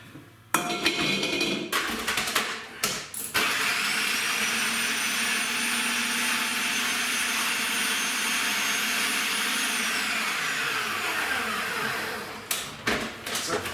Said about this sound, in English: I will be putting in the processor the cashew nuts and the apricots, but not the sultanas